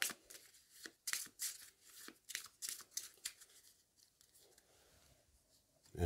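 A deck of board game cards is shuffled by hand during a tabletop playthrough, giving a quiet series of quick papery riffles and flicks, denser early on and sparser toward the end.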